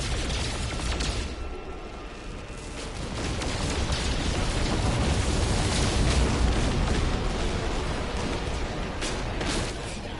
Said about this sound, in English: Two ships trying to shoot me down.